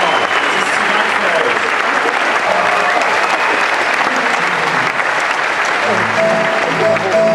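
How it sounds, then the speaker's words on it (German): A live comedy-show audience in Freiburg breaks into loud, sustained applause that fills the hall steadily throughout, with faint tones and a voice briefly present underneath. "Applaus für Mirjam Schüffel."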